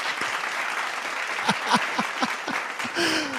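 Scattered clapping from a small studio audience, with distinct individual claps standing out over a soft bed of applause and some voices and exclamations mixed in.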